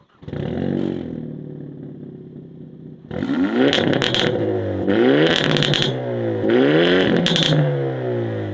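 A 2024 Hyundai i30 Sedan N with twin exhausts revs hard up close, one short blip followed by three loud, sweeping throttle rises that rasp and crackle as the revs climb and fall.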